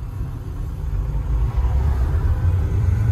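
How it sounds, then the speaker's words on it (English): Lamborghini Huracan engine giving a steady low rumble from nearby, a continuous deep drone that swells slightly partway through, with no talk. "Got the Lamborghini Huracan behind us."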